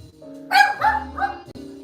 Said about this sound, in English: I hate his barking so much.